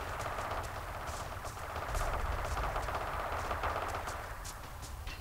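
Artillery fire in a war video game, heavy dull booms and thuds repeating irregularly over a constant rumbling battlefield din, fairly distant and steady, with no talk.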